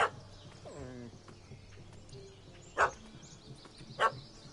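A small puppy barks in The Witcher 3: Heart of Stone, three sharp yaps spaced a second or so apart, with a brief whine and faint ambient background between them.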